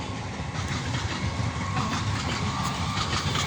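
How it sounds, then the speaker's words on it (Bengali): A train rolls steadily past nearby, a continuous rumble with rhythmic clickety-clack of wagons on the rails, loud and sustained throughout with no voices. "ট্রেন আসছে, ট্রেন আসছে"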